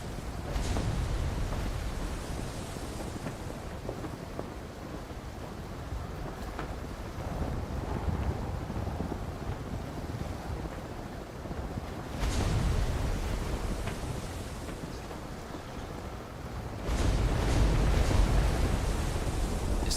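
Steady wind rush and water wash while sailing a boat in the video game Arcane Odyssey, a continuous broadband whoosh that swells louder in gusts, with no talking.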